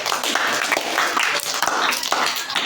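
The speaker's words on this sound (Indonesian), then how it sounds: "Boleh tepuk tangannya?" A classroom audience at a rupiah currency education quiz game claps together in a busy burst of overlapping hand claps, fairly close and lively, with some voices mixed in under the clapping.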